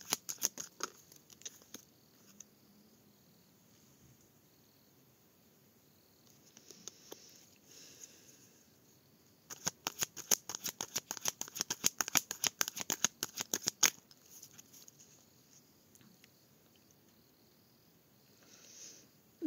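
A deck of tarot cards being cut and handled, a close, quiet run of crisp flicking and riffling clicks in a dense burst mid-way, with scattered softer card taps before and after.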